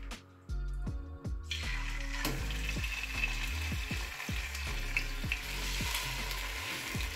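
Pork pieces drop into a hot pot one after another with clattering thuds, then sizzle and fry in a steady, loud crackle as they are stirred, with no talking.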